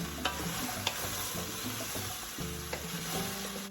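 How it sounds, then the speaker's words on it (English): A meat and potato stew in poblano sauce being stirred in a pan, with soft scraping and a few clicks of the spoon over a low, steady sizzle. "Give that a good stir."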